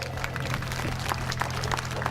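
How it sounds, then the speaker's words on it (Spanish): A crowd applauds at an education conference talk, a dense, steady patter of many hands clapping throughout, with a low hum in the background. "Fuertes los aplausos"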